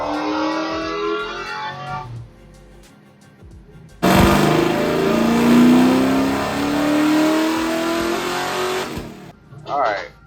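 An LS3-powered Chevy squarebody truck accelerates in second gear on a dyno. After a voice and quieter engine idle, a loud roar rises steadily in pitch for several seconds, then cuts off abruptly.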